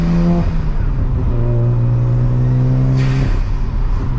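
Mazda RX7 rotary engine revving hard and loud up close, pitch climbing, dropping briefly at a gear change around 5,000 RPM, then climbing again before easing off.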